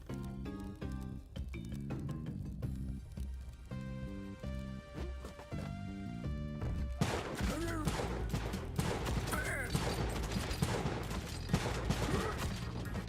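Video game gunfire, bursts of rapid shots crackling over steady game music, growing denser and louder in the second half.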